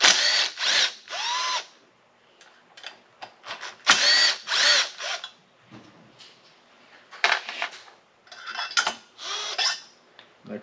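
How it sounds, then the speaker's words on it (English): A power driver backs out the 5 mm muffler bolts on a Predator G372 small engine in short, loud whirring bursts, with clinks of tools and metal parts between them. "Take our muffler off."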